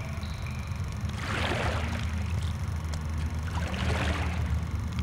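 Oars dip and pull through lake water in two slow splashing strokes, soft and close, over a low steady background rumble.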